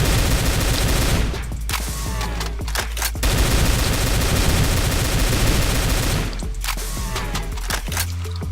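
Phase rifle in Complex Doom firing in long sustained volleys, a dense loud stream of rapid shots filling nearly the whole stretch, with two brief lulls between bursts and no talk.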